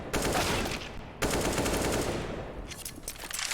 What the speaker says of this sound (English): Fabian with a nice headshot with that deagle